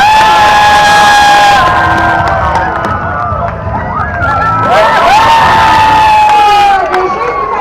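A crowd at an animal actors stage show cheers and shouts loudly and continuously, with children's voices and whoops rising over the general roar.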